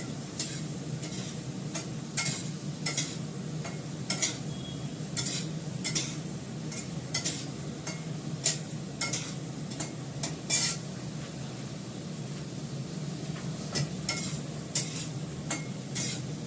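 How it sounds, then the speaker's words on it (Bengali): Potatoes frying in a pan, a continuous low sizzle under frequent sharp scrapes and clinks of a spatula stirring against the metal, close and steady. "আলুটা আমার ভাজা হয়ে গেছে।"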